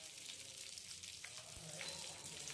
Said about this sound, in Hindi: यहाँ पर ढेर सारा करी पत्ता डाल देवे के है।